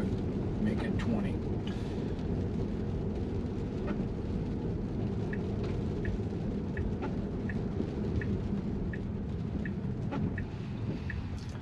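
Steady rain falling, a constant close hiss with faint scattered drips and light ticks, continuing without a break.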